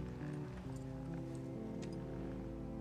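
Horse hooves clip-clop steadily over a backdrop of sustained music in the video game The Last of Us, with a faint snort or whinny here and there.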